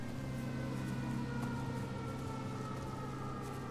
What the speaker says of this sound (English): There are the sirens.